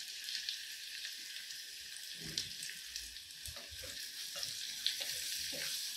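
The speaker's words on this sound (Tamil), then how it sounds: "வெங்காயம் கொஞ்சம் கூட வதங்கட்டும்." Chopped onions fry in oil in a pan for watermelon kulambu, with curry leaves and asafoetida added, giving a steady high sizzle broken by occasional soft stirring scrapes, close and alone.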